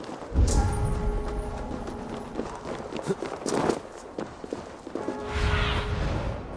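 Horse hooves clip-clop in irregular bursts in Assassin's Creed Valhalla, close and then fading, with a faint whoosh in between and short stretches of muted sound.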